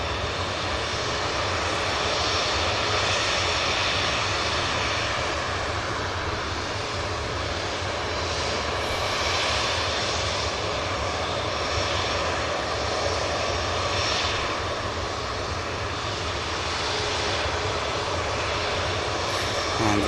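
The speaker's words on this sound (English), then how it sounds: "We also have an EasyJet for Ljubljana on the way out." An EasyJet jet airliner bound for Ljubljana departs the airport, its engines giving a constant broad roar that rises and falls only slightly, with no voices.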